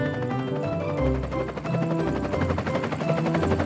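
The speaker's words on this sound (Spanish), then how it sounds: "Es un helicóptero." A cartoon helicopter carrying a box of bowling pins in a children's animation about smart cars bowling: a steady rhythmic rotor chop with music-like tones, continuous and fairly loud, no talking.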